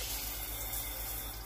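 Cold water running steadily from a kitchen tap over cooked plantains, a constant close rushing stream with no talk.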